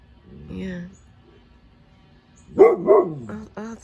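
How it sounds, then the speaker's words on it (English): A dog barks a few times near the end, loud and close, sharp yaps in quick succession after a quieter stretch with a brief vocal sound at the start. "Whenever she hears a dog, she barks."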